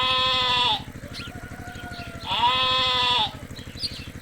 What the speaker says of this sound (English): That's right, I'm a sheep, fluffy and soft all around.